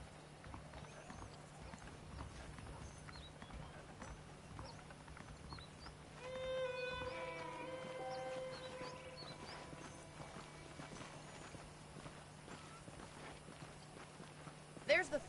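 Horse hooves clip-clop steadily in the video game Red Dead Redemption on PS5, a rhythmic walking beat with a whinny partway through, all under quiet background ambience.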